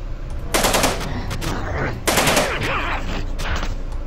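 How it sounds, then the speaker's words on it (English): Gunfire from the video game Nuclear Outrun comes in two loud, close rapid-fire bursts a second or so apart, each crackling briefly before cutting off, over faint game background. "So that was two shots."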